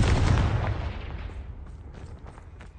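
The Confringo blasting spell explodes in Hogwarts Legacy with a loud, booming blast at the start that fades into a long rumbling decay, followed by faint crackling debris.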